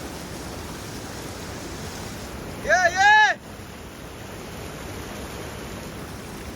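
Broad, steady rush of floodwater through a flooded village in heavy rain, mixed with wind noise on the mic. A voice calls out briefly partway through, over the water.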